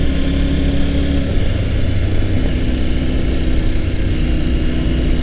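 A Triumph Tiger 900GT adventure motorcycle on a night ride carrying two people gives a steady, loud engine drone with a low rumbling hum and a shift in pitch partway through, close and continuous with no talk.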